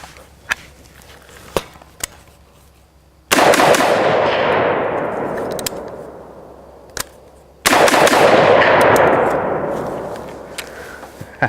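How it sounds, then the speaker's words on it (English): An AR pistol fires two quick bursts of three rounds each, sharp loud cracks with rolling echo tails, spaced a few seconds apart, with faint clicks in between. "Let's shoot it, and let's go 3-round bursts."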